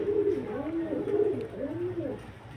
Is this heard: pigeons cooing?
yes